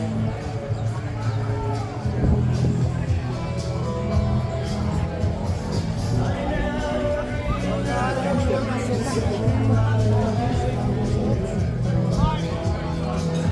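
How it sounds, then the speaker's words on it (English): Crowd chatter drifts from a busy bar with live entertainment on a hot Sunday in Benidorm, a steady babble of many voices close by with no clear pauses throughout. "And quite a big crowd as well."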